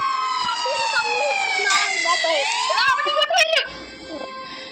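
A wailing emergency siren rises and falls loudly and close by for several seconds, its sweeping tones sliding up and down while people talk over it.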